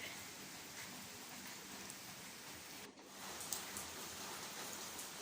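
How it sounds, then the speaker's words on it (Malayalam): Heavy rain pours steadily as a dense, even hiss, with a brief dip midway before the downpour continues unbroken. "മഴ നല്ല മഴയാണ് ഇവിടെ മഴ കാരണം പുറത്തേക്ക് ഇറങ്ങാൻ പറ്റുന്നില്ല"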